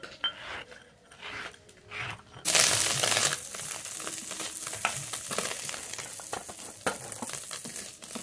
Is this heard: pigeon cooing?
no